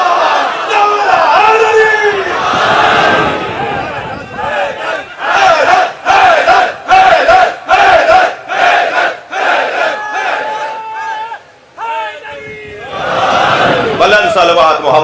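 A large crowd at a Muharram Ashura gathering shouts salawat loudly in unison, swelling into a roaring chant, then breaking into a series of rhythmic collective bursts before rising again into a sustained mass of voices.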